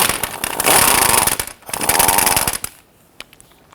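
A 14mm bolt on the front engine mount cradle of a 1992-1996 Toyota Camry 2.2L I4 is loosened and removed, two loud ratcheting bursts from a power tool close by, then brief quiet rattles.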